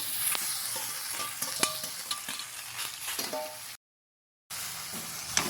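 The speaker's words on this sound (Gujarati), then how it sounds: "તો હવે આપણે નાખી દઈએ પાસ્તા." Pasta goes into a pan of sizzling masala with Kashmiri chutney and is stirred, giving a close, steady frying hiss with scraping and clinking of the spoon, broken by a brief silent gap.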